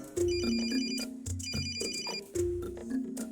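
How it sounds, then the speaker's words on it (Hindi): A mobile phone ringtone plays in a Hindi-dubbed South Indian comedy scene, a loud, tuneful melodic jingle of bright tones repeating in short phrases roughly every second, with no talking over it. "भाई उस खजुए बैगन सिप्पी का फोन आ रहा है"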